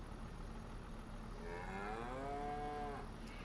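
Cattle in the Farming Simulator 25 video game give a single drawn-out moo lasting over a second, heard alone over a steady background hum.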